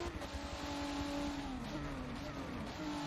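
A race car engine at Sebring in the Forza video game holds a steady, rising whine, moderately loud and alone, with no voices.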